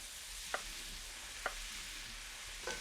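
Chorizo fries in a pan with a soft, steady sizzling hiss, broken by three faint sharp clicks or taps.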